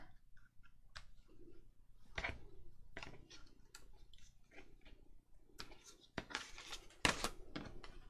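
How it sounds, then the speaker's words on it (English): Scissors snip off loose thread ends after stitching, a few quiet, sparse clicks and cuts spread out with small handling noises, close and soft. "Let's cut the ends off."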